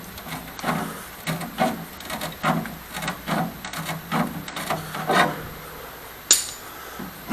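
Snips cut thin sheet metal on a Ford Escort's wheel-arch flare, giving a run of short, close rasping crunches in an irregular rhythm, with a brief metallic clink near the end.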